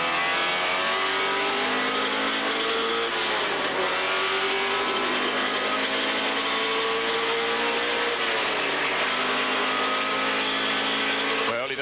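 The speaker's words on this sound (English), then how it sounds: "here, Peter Williamson's car, you can see the rain falling and Peter thundering down through the S's." Ford touring car racing at Bathurst in the rain, its engine roaring loud and steady throughout with shifting pitch as it thunders through the esses, a faint voice underneath.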